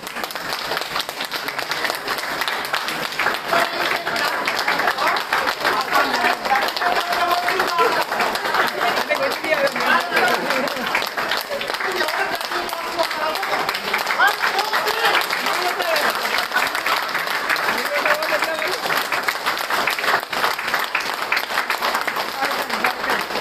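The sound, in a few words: audience clapping loudly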